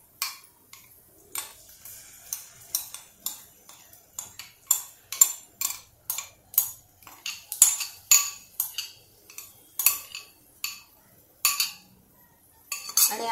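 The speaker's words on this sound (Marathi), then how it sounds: "आता मी याच्यामध्ये हा मसाला घालते." Metal spoon clinks repeatedly against a cooking pan while masala is added for a vegetarian potato and paneer version of a Kashmiri dish, a steady series of sharp, close taps with no talking.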